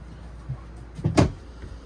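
Strut-supported overhead storage compartment doors in a 2025 Palomino SolAire 3060RKTS travel trailer give a soft bump and then one short, firm close thud, near and brief, in a quiet interior.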